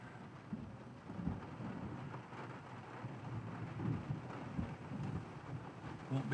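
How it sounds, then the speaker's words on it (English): Steady light rain patters across a waterlogged field in Central Texas with a constant broadband hiss, occasional low rumbles beneath it, and no voices. "light rain now."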